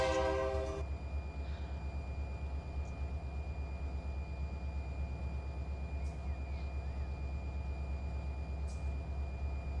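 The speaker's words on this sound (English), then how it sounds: "If I turn the camera this way, you can probably hear the train better" A train in a train simulator video game runs with a steady, droning low rumble and a faint sustained horn-like tone, heard alone at low volume.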